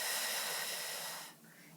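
A long, steady exhale during an abdominal lift exercise, a broad airy hiss held for over a second before fading, close and alone without speech.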